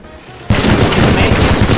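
A minigun in the Teardown video game opens fire after a quiet moment, bursting into a loud, dense, unbroken roar of rapid shots that carries to the end.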